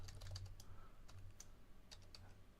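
Quick, uneven keyboard clicks come from a computer keyboard as simple Python commands are typed. They fall in close bursts with short pauses, and no voices are heard.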